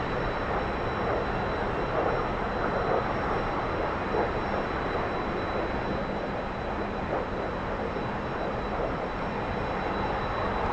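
A T-45 jet trainer's engine in the DCS flight simulator runs at a steady, loud, broadband roar, holding an even, sustained drone as the throttle is pushed forward.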